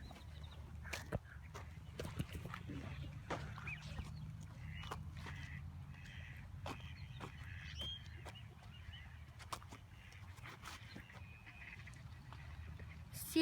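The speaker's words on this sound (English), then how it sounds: "Here's some more ducks" Ducks quack intermittently near a wooded disc golf course in a park, their short calls sounding at a moderate distance over a steady low outdoor rumble.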